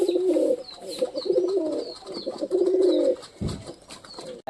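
Pigeons coo in repeated low, throaty bursts while feeding and drinking close by, with a faint high chirping in the background and a brief dull thump near the end.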